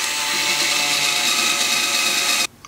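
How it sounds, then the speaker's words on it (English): Power drill pre-drilling into the wood of a guitar speaker cabinet, a loud, steady, continuous whine running for over two seconds before cutting off abruptly. "Now I'm just pre-drilling."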